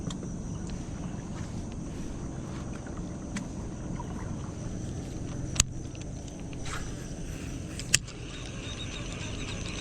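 A boat on the water gives a steady low rumble with wind buffeting the microphone, constant throughout, with two sharp clicks standing out partway through.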